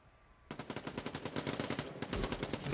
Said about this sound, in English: MBD is putting out grenades